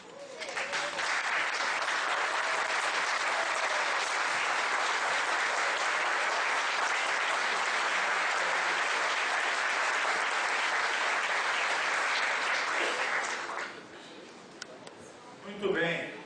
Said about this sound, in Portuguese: pedir para eles uma salva de palmas